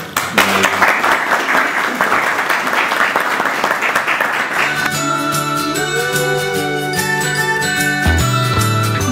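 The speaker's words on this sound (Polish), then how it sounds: "w tym momencie gromkie brawa" An audience gives loud, sustained applause for an award-winning primary school in Koźmin; after about four and a half seconds a bright music jingle comes in and plays over the fading clapping.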